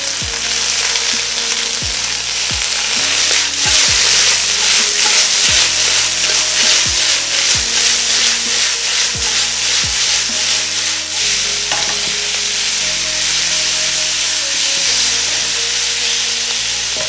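Bok choy and minced garlic stir-fry in a hot pan, a steady loud sizzle running throughout with repeated scraping strokes of a utensil against the pan at a regular rhythm, no voices.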